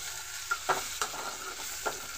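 Onions and curry leaves frying in a pan, a faint steady sizzle under a few soft spatula stirs and taps, quiet and close, with no talking.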